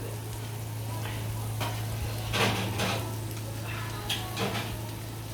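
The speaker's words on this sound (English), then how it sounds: "and then fry it a little bit" Sausages frying in a pan: a soft continuous sizzle with a low steady hum underneath and a few brief scrapes or stirring bursts, close and moderate.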